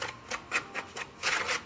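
Frozen butter being rubbed by hand into sugar and flour for a crumb topping on a spiced Dutch apple pie, making soft, rhythmic gritty rasps close up.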